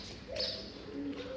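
Doves cooing on a cold winter morning, faint and distant, with a few soft low calls over quiet background hiss.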